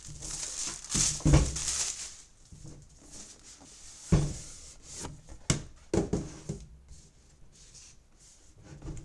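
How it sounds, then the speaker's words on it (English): Plastic wrap being cut and pulled off Mavic 2 Pro drone packaging, with close, quiet crinkling and rubbing and a few sharper snaps and taps spread irregularly through the clip. "Cut off the plastic there."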